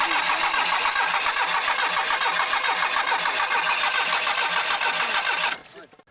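A car engine with its carburetor float chamber run on charged water from a Joe Cell setup runs loud and close with a rough, steady roar, then cuts out abruptly near the end.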